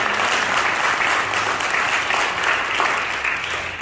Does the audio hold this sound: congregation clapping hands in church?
yes